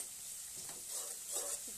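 Red chilli and turmeric powder roast for masala dosa filling in a pan, a soft sizzle with faint stirring scrapes swelling twice over a short stretch, fairly quiet throughout.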